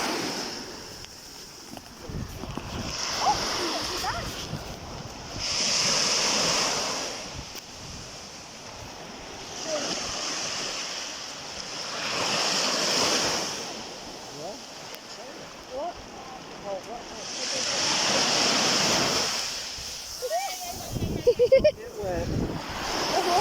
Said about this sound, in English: These waves are nice to watch.